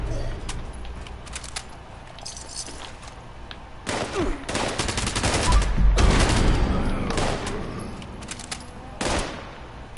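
Gunfire in Fallout 76 with an Elder's Mark rifle, sharp reports first sparse and faint, then dense rapid bursts in the middle with a louder rumbling stretch and a final single shot.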